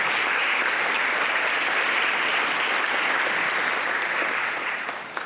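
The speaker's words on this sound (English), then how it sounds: "So nice round of applause for our 5 boosters." Round of applause for booster officers at a high school fall sports banquet, dense steady clapping from a crowd filling the room, fading slightly at the end.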